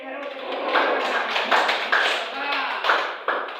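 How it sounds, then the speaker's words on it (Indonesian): Schoolchildren in a primary classroom clap for a classmate. The claps are close and come as a short rhythmic series of sharp strikes, mixed with young voices. "Tepuk tangan untuk Herut"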